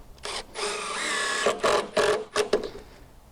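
An impact driver sinks deck screws into decking boards: a sustained high whine for about a second, then several short rattling bursts of impacts, loud and close with no talking.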